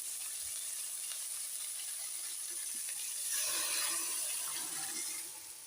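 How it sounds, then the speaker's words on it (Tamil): Pepper liquid poured into a Tamil dried-fish curry (karuvattu kuzhambu), a faint watery hiss that swells into a soft splashing pour partway through, then eases off. "இப்போ மிளகு ஊற்றிக்கலாங்க"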